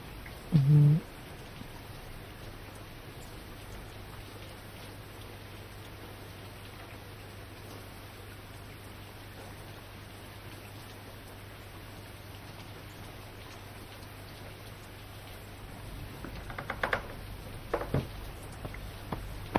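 Steady rain falling, a continuous even hiss of drops on surfaces throughout, with a brief louder bump at the start and a few knocks near the end.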